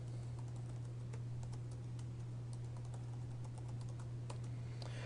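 Computer keyboard keys tapped in a quick, uneven run of light clicks while a password is typed, fairly faint against a steady background hum, with no voices.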